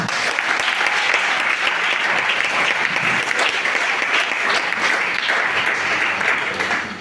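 A church congregation at a Sunday worship service breaks into loud, sustained applause, with dense clapping and faint cheering voices filling the hall for several seconds.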